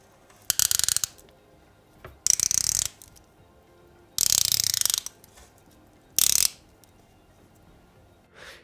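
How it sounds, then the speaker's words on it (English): A rotating bezel on a Formex Reef dive watch ratchets through four separate bursts of crisp, rapid clicks, each lasting under a second, heard close up against a quiet background. "Action of the bezel is crisp and sounds great."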